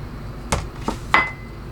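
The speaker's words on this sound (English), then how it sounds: "Now I gotta stir it because it has to mix" A spoon knocking against a bowl while stirring Jello mix with boiling water, three separate sharp clinks spaced apart, the last one ringing briefly, close up over low background noise.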